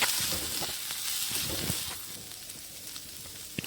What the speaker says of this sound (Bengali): সবগুলোকে নেড়েচেড়ে এইভাবে একটু ভাজা হয়ে গেলে তারপরে দিয়ে দেব টমেটো কুচি।